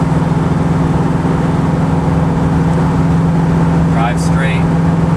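A 1972 Ford Gran Torino Sport Fastback cruises at 60 mph, a loud, smooth, steady engine drone and road hum with no rise or fall, and a brief faint sound near the end.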